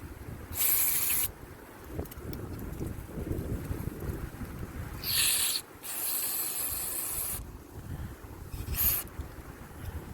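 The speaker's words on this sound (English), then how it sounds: "when you spray carb cleaner in here, it comes out over there" Several short bursts of hissing carburetor cleaner spray into a Troy-Bilt Storm 2460 snowblower carburetor, each lasting about a second, separated by pauses, with a quiet background hum underneath.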